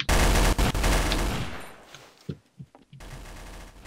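Dense automatic gunfire from a Trouble In Terrorist Town match, a loud sustained burst over the first one and a half seconds, then a few scattered single shots, then a renewed roar of firing at the end.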